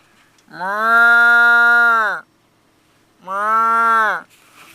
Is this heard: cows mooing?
yes